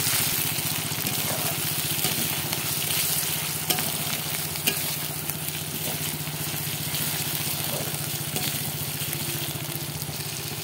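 Chicken with onion and ginger-garlic spice paste fries in a pan, a steady close sizzle with occasional stirring clicks throughout, no voices.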